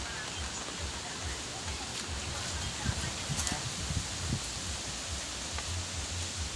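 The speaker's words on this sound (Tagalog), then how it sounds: "kung naririnig niyo po yung agay ay ng hangin" Strong typhoon wind during Typhoon Uwan roars steadily as a broad, hissing rush, with gusty rustling and occasional louder surges throughout, no speech audible over it.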